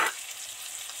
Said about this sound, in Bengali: পেঁয়াজ তো মোটামুটি সফট সফট হয়ে ভাজা হয়ে গেছে